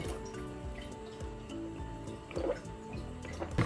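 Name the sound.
refilling a water bottle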